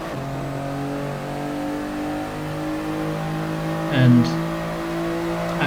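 Race cars in the GT Sport video game at a Le Mans-style start, a steady layered engine drone with revving, one brief louder burst around four seconds, and a voice speaking briefly.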